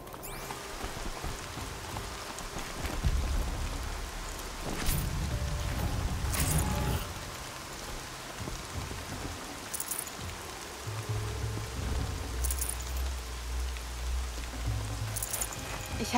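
Steady rain in the video game Horizon Zero Dawn patters and hisses throughout, with occasional louder splashes and low rumbling thuds; a voice speaks faintly underneath.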